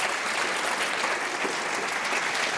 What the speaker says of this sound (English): One more round of applause for Kelvin.